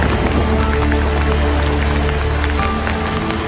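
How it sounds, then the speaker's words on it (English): Dense, steady rain and hail patter hard on a surface outdoors in a thunderstorm, a constant loud hiss with scattered sharp drop impacts throughout. "Thunder and lightning, rain and hail."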